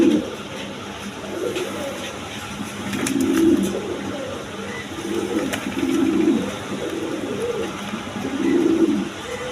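Red pigeons, a female and a male, coo in a few rolling bursts spaced a couple of seconds apart, moderately close over steady background noise.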